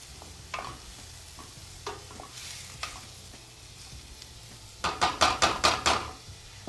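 Onions and garlic cooking in a pan, a soft steady sizzle under a few light utensil clinks, then a quick run of six sharp scraping stirs near the end, close and fairly loud.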